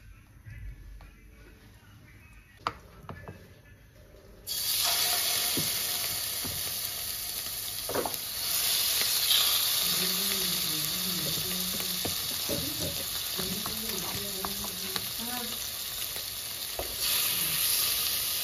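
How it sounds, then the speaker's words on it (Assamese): Rohu fish pieces drop into hot oil in a wok and burst into a loud, continuous sizzle that carries on steadily, while a faint voice can be heard in the background partway through. "এতিয়া মই মাছখিনি ফ্ৰাই কৰি ল'ম প্ৰথম"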